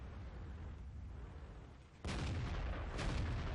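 Tank gun fire in World of Tanks: a sudden loud blast cuts through steady battlefield rumble, with a second shot a moment later.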